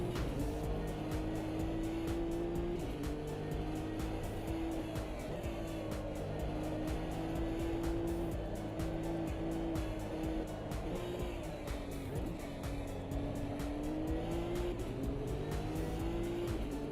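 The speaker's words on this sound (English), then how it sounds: "This car sounds very interesting from the external view." A vintage Bentley race car in a racing video game, heard from outside: a steady, loud engine drone that rises and falls with gear changes, continuous throughout with no talking.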